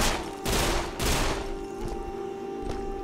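Gunshots in the video game Deadfall Adventures, two bursts of loud rapid fire in the first second followed by scattered fainter shots over a humming background.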